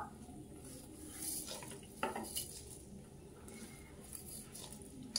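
Peanuts and fenugreek seeds dry-roasting in a pan, with soft rattling, scraping and light clinks of a spoon stirring them, quiet and close with no talk.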